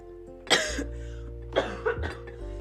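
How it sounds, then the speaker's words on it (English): One sharp, close cough followed by a couple of smaller throat-clearing coughs, over a low steady hum. "Excuse that. I have this cough."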